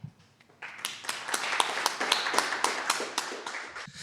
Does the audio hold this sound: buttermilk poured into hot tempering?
no